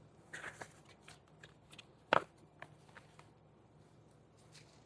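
Tarot cards being shuffled, soft papery riffles and pats with one sharp snap in the middle, faint and close, with no talk over them.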